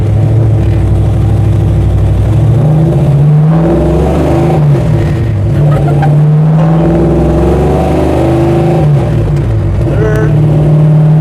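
A 1968 Dodge Charger's engine revs and accelerates through the gears with loud, close rising and falling pulls, heard from inside the car, with voices talking briefly over it.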